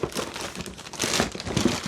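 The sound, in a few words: plastic bag crinkling while unwrapping rifle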